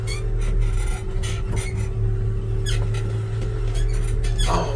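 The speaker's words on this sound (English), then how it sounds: "I got a squeaky belt." Squeaky drive belt on a 1966 Chevy C10 pickup, a steady engine hum under a series of short, sharp, irregular chirps and squeals, fairly loud and close with no talking.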